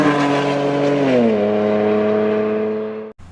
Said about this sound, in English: this exhaust sounds great